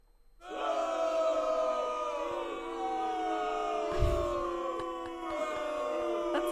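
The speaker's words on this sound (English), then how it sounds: "Large audience, crowd painful." Large audience crowd sound effect: a sustained roar of many voices that swells in quickly and holds steady, with a brief thump partway through.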